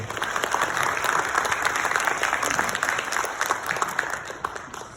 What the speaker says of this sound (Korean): 이쪽에 여러분 힘찬 응원의 박수를 넣는데